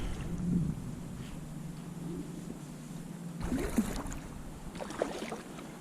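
A Pungo 120 kayak is paddled on a Florida river with light strokes, making soft, intermittent water swishes and drips over a steady background hiss.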